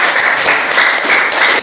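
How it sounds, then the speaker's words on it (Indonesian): Schoolchildren in a vocational school classroom clap together after a group presentation, a brief, loud, close burst of dense applause. "Silakan boleh beri tepuk tangan anak-anak."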